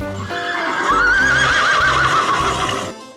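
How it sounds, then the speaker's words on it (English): A horse neighs loudly in one long, wavering whinny that rises and then trails off, heard alone and up close, with faint low thumps beneath it. "Horse."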